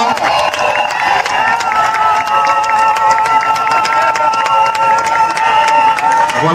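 A crowd applauds loudly at an official public administration ceremony honoring a Vice-Prime Minister, steady clapping with cheering over a droning background of music or voices.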